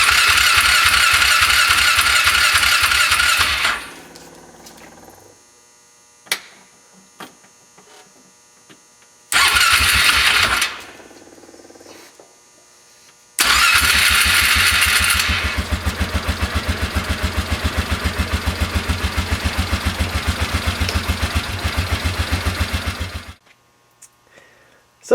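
The carbureted engine of a 2003 Polaris Ranger with a newly fitted carburetor runs briefly and dies, fires again in a short burst, then catches and idles roughly and loudly for about ten seconds before shutting off.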